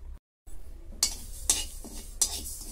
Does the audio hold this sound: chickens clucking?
no